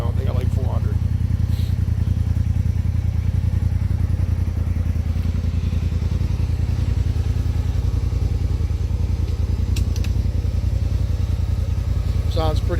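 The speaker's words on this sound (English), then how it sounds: "Sounds pretty good. We actually changed the pipe, so now it's a full Trinity exhaust." A 2018 Polaris RZR Turbo engine fitted with a full Trinity exhaust idles loudly and steadily with a deep, throbbing low rumble, close by, with occasional light clatter and a voice talking over it.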